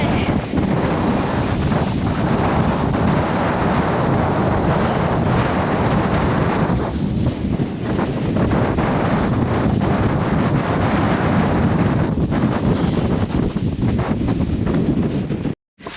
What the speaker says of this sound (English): it is bloody cold and windy.